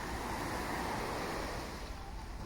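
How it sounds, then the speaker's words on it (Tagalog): Waves break steadily along El Nido beach, a continuous close rush of surf mixed with wind blowing across the microphone. "Irinig mo lang yung hampas ng alon dito sa"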